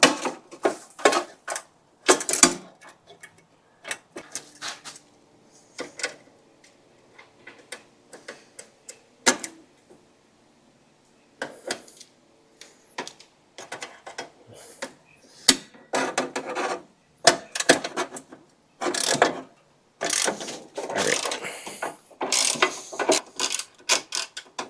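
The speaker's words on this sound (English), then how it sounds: "That carriage bolt keeps spinning in there, so let's see if we can grab onto it with a vice grip." A vice grip working on a spinning carriage bolt during a John Deere 300 repair, with close metallic ratcheting, clicking and scraping in irregular bursts separated by quiet pauses.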